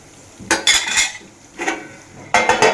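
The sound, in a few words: stirring whole okra curry in a pot with a spoon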